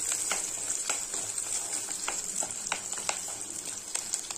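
Shallots and green chilies sauté in hot oil for a Tamil bitter gourd gravy, a steady close sizzle with bright crackles and occasional pops from the pan, no voices.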